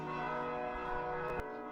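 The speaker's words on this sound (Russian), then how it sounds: "Тем временем микрофон и видеокамеры все больше наполняет колокольный звон." Church bells ring on Palm Sunday in Gzira, Malta, a steady sustained resonant peal filling the air outdoors with no voices.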